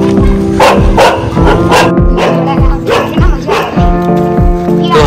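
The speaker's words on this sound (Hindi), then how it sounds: "और ये कुत्ता है जो हाची को पसंद नहीं करता और काटता है" A dog barks aggressively, with repeated loud, close yaps and woofs in a quick, uneven rhythm across the whole stretch, mixed with a few whimpering yips.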